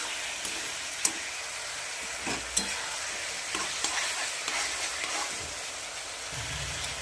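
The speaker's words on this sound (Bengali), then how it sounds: "এবার একটু ওটা কষাতে থাকবে যতক্ষণ একটু গাঢ় না হয়ে যায়" Amla (Indian gooseberry) pickle with a little sugar is being stirred and cooked down in a pan, with repeated spoon scrapes and a few sharp clicks over a constant, close sizzle.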